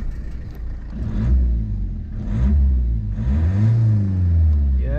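BMW diesel rally car engine revving hard, a loud, deep throbbing roar that rises and falls through several blips, close by with a slight rasp at the peaks.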